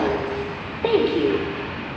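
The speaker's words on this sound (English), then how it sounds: "The arriving train at Platform 1 towards Semarang." Siemens Inspiro metro train arriving at Platform 1 of an SBK Line station toward Semarang, a rumbling approach with a rising and falling tonal whine, heard beneath a loud platform announcement.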